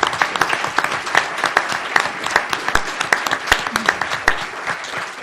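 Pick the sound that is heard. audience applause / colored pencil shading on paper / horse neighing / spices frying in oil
audience applause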